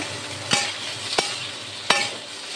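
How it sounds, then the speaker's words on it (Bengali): Paneer pieces being fried in a pan to a light reddish colour, with a steady soft sizzle broken by three sharp scraping stirs of a spatula, close up and alone. "পনিরগুলোকে লাল লাল করে ভেজে নেব।"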